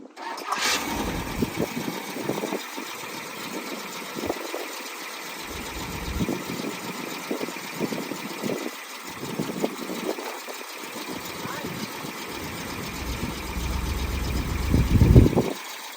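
An old van that has sat unused for years cranks and catches, its engine rumbling unevenly at idle with surging bursts, then revving louder near the end; a voice is briefly heard.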